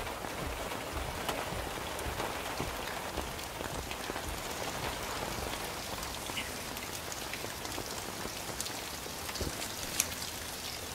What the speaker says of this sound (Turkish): Çok yağıyor